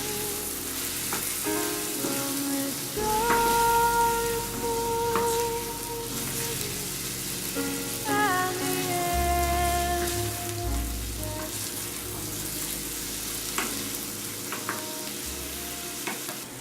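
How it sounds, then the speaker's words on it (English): Tomatoes sautéing in a pan give a steady sizzle and crackle under a low hum, joined by soft tonal notes from music or utensils, with no talking. "So while we're finishing up sauteing our tomatoes"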